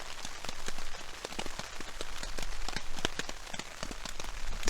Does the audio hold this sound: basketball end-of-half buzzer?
no